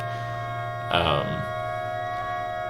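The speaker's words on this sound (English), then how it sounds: "It also became kind of like a tornado siren effect." A sustained tornado-siren-like electronic drone from the video game crrrrrrrrn holds steady on layered pitches, broken by a brief harsher burst near the one-second mark.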